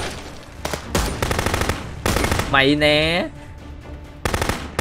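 Gunfire in the video game Contraband Police comes in several short, rapid bursts of loud shots separated by brief pauses, with voices talking between and over them.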